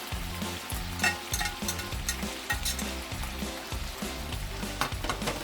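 Beef for Filipino bistek fries in a pan while being stirred, a loud steady sizzle broken by repeated scraping strokes of the utensil in a quick uneven rhythm, heard up close.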